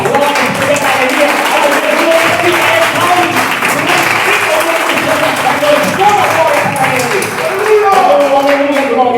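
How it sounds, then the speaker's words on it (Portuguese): Church congregation clapping hands together in worship, loud sustained applause that fills the space, with voices talking and calling out over the clapping. "poder bater palmas, poder dar glória, poder dar alegria"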